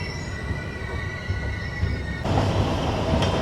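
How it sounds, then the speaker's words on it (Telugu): The Narasapur–Tirupati weekly express rumbles and squeals as it slows, metal wheels grinding with a steady low roar that grows louder and harsher partway through, heard from inside the train. "మన ట్రైన్ స్లో అవుతుంది ఇప్పుడు."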